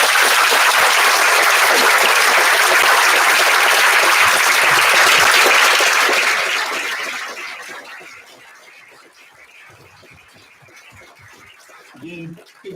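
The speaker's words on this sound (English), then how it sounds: "big round of applause for Myron for a thought-provoking and kind of funny presentation" Loud, dense audience applause fills a conference hall after a presentation, holding steady for several seconds before fading to scattered claps and faint room noise.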